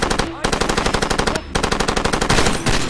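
Rapid machine-gun fire in the video game Far Cry 2, a loud, close, unbroken stream of shots with two brief pauses.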